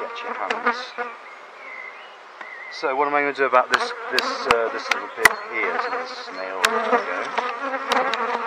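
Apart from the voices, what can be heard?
honeybees buzzing at top bar hive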